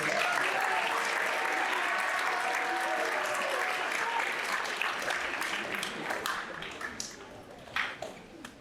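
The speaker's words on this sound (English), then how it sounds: "Mr. Flieger, Mr. Flieger, one more time, round of applause for him." A school band concert audience at Northview High School applauds, dense clapping that holds steady and then thins into scattered claps near the end, with some talk underneath.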